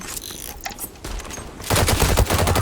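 Gunfire in the Zula shooter game: loud, rapid bursts of shots crackle close by and grow denser and heavier toward the end.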